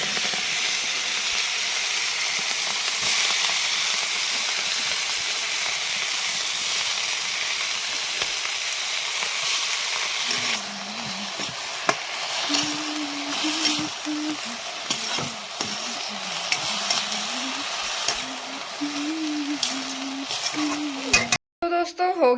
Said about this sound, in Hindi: अब मैं इस सब्जी को डालती हूँ और फिर मिलाते हैं